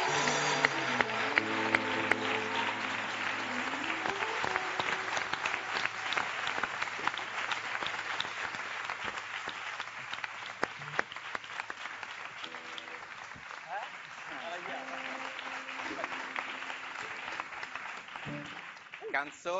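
Studio audience applause on an Italian TV show for a singer, a long dense round of clapping with background music and tonal sounds running underneath.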